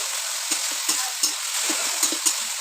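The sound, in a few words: stirring colocasia (kochu) greens cooking in pan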